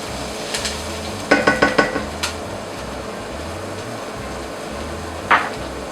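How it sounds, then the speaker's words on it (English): Onion is stir-fried in a wok for clams: a soft, steady sizzle with a quick run of metallic spatula clanks against the pan, followed later by one more sharp scrape. "So you need to already stir fry the ingredients, otherwise it's really easy to burn."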